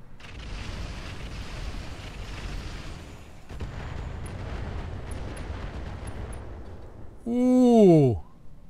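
An artillery barrage in the Roguetech BattleTech game, heard as a dense, continuous rumble of blasts for several seconds, then a short rising-and-falling tonal whoop near the end.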